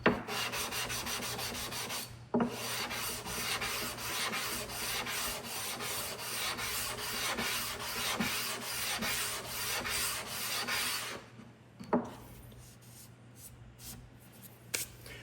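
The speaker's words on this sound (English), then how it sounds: "I started sanding and bringing it all the way out here and keeping this thing flat." A block is sanded flat by hand: repeated close, rough rubbing strokes scrape on in a steady rhythm, broken by a couple of brief pauses with light knocks before the sanding resumes.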